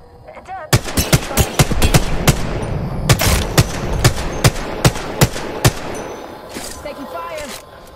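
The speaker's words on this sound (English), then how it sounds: "Being shot at." Rapid gunfire in Apex Legends, a loud string of sharp, closely spaced shots cracking at a steady rhythm for several seconds over a noisy battle background.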